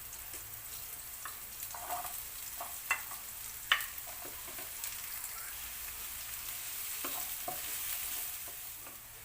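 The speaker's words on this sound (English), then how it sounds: "We're gonna put our onion and green chili together and cook this until it gets translucent" Onion and green chili fry in a pan for a paneer vegetable stir fry, a soft steady sizzle with scattered light clicks and scrapes from stirring, fairly quiet and with no talk.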